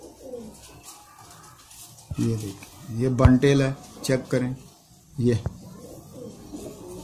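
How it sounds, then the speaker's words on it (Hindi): A Rampuri pigeon coos close by in short rolling bursts, partly overlapping a man's speech as he handles the birds. "ये दोस्तों रामपुरी कबूतर है जिसका आपको शौक करा रहा हूँ"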